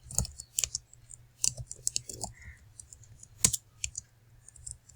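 Code typed on a computer keyboard: close, irregular key clicks in small bursts with pauses, over a faint low hum.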